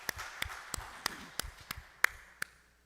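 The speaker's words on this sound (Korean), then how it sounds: "우리 삼위 하나님께 영광의 감사의 박수를" Church congregation at a Sunday afternoon worship service clapping in a slow, sparse rhythm, about nine distinct claps spaced roughly a third of a second apart over a quiet room.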